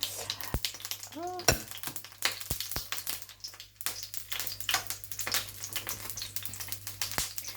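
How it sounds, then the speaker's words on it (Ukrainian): Pumpkin pancake batter sizzles and crackles in hot oil, with sharp pops and spatters from water in the pan breaking through a steady frying hiss. "Трішки стріляє. Певно,"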